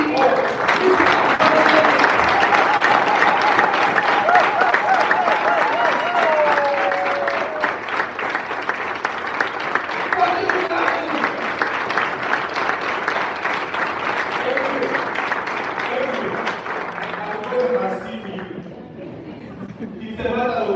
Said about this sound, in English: can we give a very big hand clap to our CEO?